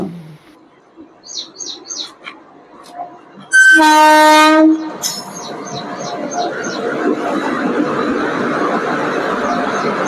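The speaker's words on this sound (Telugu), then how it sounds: "వెళ్ళిపోవచ్చు అనుకుంటే ఇంకో ట్రైన్ వస్తుందంట" A train horn blasts loudly, then railcars rumble past at close range with a steady roar as birds chirp in the background.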